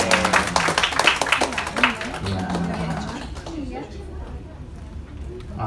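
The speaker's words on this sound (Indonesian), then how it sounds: "kita beri tepuk tangan dulu dong" Audience applause at an Indonesian sangjit engagement ceremony: dense clapping that is loud at first, then thins and fades, with a host talking over it.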